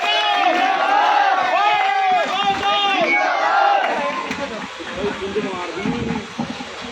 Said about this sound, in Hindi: एक बार जोरदार ताली स्वागत कीजिए।